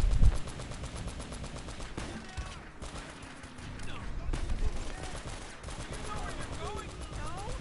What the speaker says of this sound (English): Yeah, you get to man the turret.